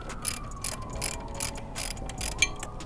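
A ratchet wrench with a 12mm socket clicks steadily as it loosens the oil drain bolt on a Honda Hornet 919 motorcycle, with a run of close, moderate ratcheting clicks and a sharper click near the end.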